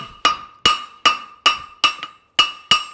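A hammer strikes a steel horseshoe while setting the toe clip on a hind preventer shoe: seven sharp, ringing metallic blows at a steady, evenly spaced rhythm, close and loud with brief ringing decays.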